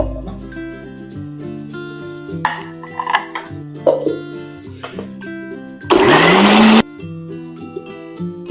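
A kitchen mixer grinder loud and near, blitzing onion, green chilli, ginger, garlic and coriander for a vegetable pulao paste in one short burst of roughly a second, amid background music.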